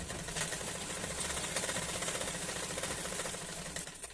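A sewing machine stitches a neckline strip on a kurti, giving a fast, even mechanical chatter that runs without a break at moderate volume and stops near the end, with no talking.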